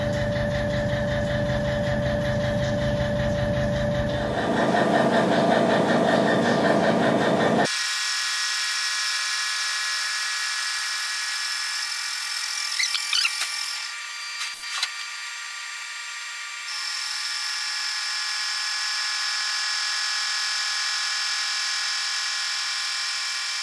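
A Tormach CNC mill cuts heat-treated 4140 steel for a Brembo caliper bracket at slow speed, giving a loud, steady whine with shifting tonal layers and a few brief scraping disturbances midway.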